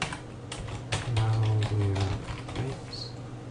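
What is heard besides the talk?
typing on a computer keyboard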